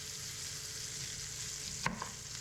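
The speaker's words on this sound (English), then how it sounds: "Get a good sizzle going" Steady, quiet sizzle of fish frying in a pan hisses throughout, with a brief clink or scrape near the end.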